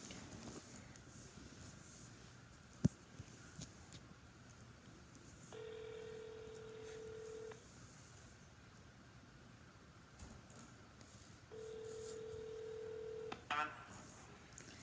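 A phone call on speakerphone: short dialing tones, then two long steady ringback tones separated by a pause, faint and a little distant amid room noise with a brief click early on.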